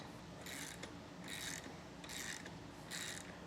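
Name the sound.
lock nut tightened with a 3/4 inch socket wrench on boat winch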